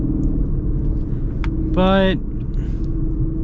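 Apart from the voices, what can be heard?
2025 Ford Escape PHEV four-cylinder engine accelerating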